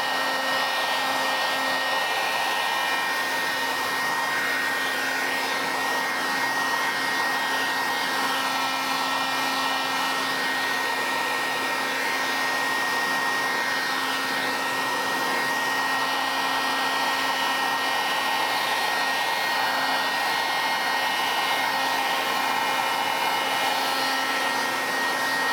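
A powerful industrial dryer roars continuously at close range, its even whoosh carrying a constant whining tone with no pauses.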